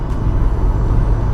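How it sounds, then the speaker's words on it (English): Broadband roar of wind rushing past an open-top Audi TT convertible on the move, a steady, loud rumble with no break or voices. "Having that wind noise is definitely"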